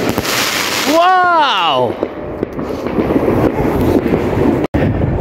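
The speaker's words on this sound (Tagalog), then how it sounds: "malakas yung mga paputok dito" New Year fireworks and firecrackers exploding in Poland, loud crackling bursts and booms with a rising whistling rocket, close and continuous, while a voice exclaims briefly.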